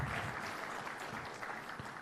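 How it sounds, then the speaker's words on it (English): Audience applause at a ceremony marking twenty years of financial inclusion, honouring the family of a late doctor; steady, fairly soft clapping from a crowd, continuous throughout without voices. "a bigger round of applause to even the family of Doctor."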